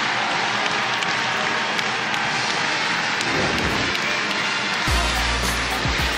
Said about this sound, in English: And the crowd loves it here in Raleigh.